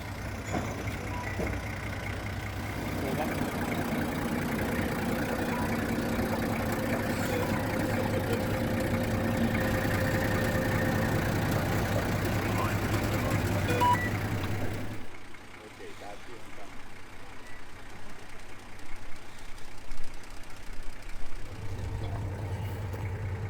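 A 4WD engine rumbles steadily while crawling forward over rough off-road track in remote Cape York, a low continuous drone with people talking over it and a rougher, bumpier stretch near the end.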